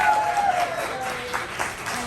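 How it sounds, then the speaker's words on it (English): An audience at a filmmakers' anniversary celebration applauds the filmmakers, with dense, steady clapping heard close and fairly loud across the whole stretch, with faint voices and a brief tone under it. "So can we give a round of applause for the filmmakers?"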